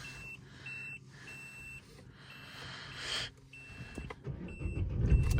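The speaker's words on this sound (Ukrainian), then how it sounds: "Заводимо. Машинка завелася." An Opel Astra H engine cranks and catches near the end, with rising low rumble following a series of repeated electronic beeps and chimes from the dashboard.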